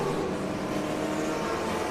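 TA2 race cars at the finish of a race at Lime Rock Park, a steady, loud engine roar with broad mechanical noise and no clear pass-by swell or voices.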